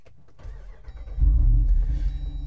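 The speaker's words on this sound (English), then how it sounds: "Now starting the Wrangler 392 up" A 2024 Jeep Wrangler Rubicon 392 Final Edition V8 is started by push button: a few faint clicks, then the engine fires and swells into a loud, deep, close rumble that settles into a steady idle. No one speaks.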